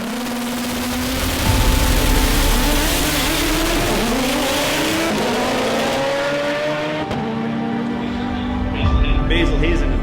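A loud Mitsubishi Evo drag race car engine revs hard and steadily, rising and falling in pitch for several seconds, with a sustained roar that briefly dips near the end.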